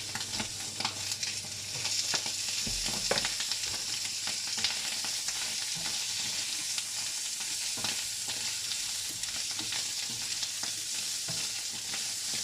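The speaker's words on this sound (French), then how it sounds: "On va mettre les poivrons avec. Avec un peu de l'huile encore." Bell peppers frying in oil in a pan over full heat for a pasta dish with carrots and mushrooms, a steady close sizzle running throughout with scraping stir sounds on top and no talking.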